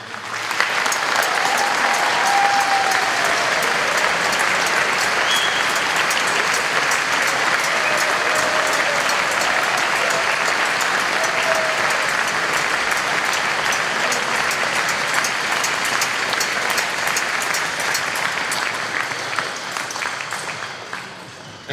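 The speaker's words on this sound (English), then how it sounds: "please join in a round of applause as the outgoing CO bids his" Sustained crowd applause at an annual cadet inspection as the outgoing commanding officer bids his Highlanders battalion farewell, a steady, broad roar of many hands clapping for about twenty seconds, tapering slightly at the close with no talking.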